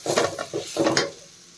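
A spatula scrapes through a ground coconut, peanut, chili powder and garlic mix frying in a pan, in a few quick strokes over a faint sizzle.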